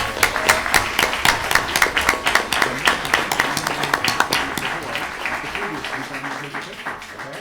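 An audience at a school board meeting applauds the unified basketball state champions, a dense, steady round of clapping that gradually softens toward the end.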